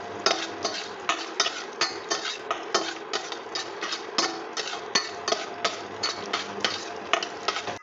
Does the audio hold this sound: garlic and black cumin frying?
yes